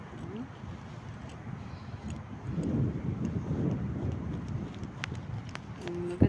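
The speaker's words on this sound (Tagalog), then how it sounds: "Mahangin ngayon. Mahangin dito." Wind gusting across an outdoor park, a broad rushing buffet on the microphone that swells midway and stays steady, with scattered light knocks.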